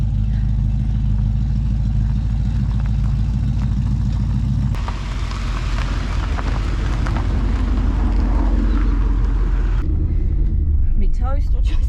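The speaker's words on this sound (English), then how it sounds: "sounds like they've just started the cars and are bringing them around the front" Car club cars idle and drive past outdoors, a continuous low engine rumble with wind buffeting the microphone, rising as vehicles move around near the front before easing off toward the end.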